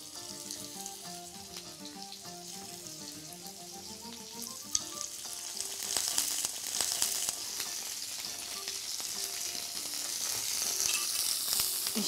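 Pork ribs sear in hot oil in a pan with a steady, close sizzle that grows slightly louder and busier toward the end, with no talking.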